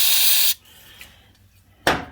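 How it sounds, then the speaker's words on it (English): Brake cleaner from an aerosol can hisses onto a Myford lathe part in two short, close bursts separated by a quiet gap with faint workshop clatter. "So we'll just chuck a bit of brake cleaner on there."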